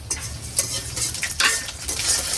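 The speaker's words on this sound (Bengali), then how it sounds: "মরিচটা একটু ভাজা হোক।" Dried chili and black cumin fry in oil while a spatula stirs the pan, giving a close sizzling hiss broken by brisk scraping strokes, with no speech.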